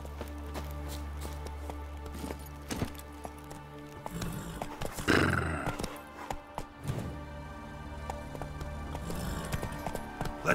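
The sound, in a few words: horses clip-clopping and neighing in the video game The Witcher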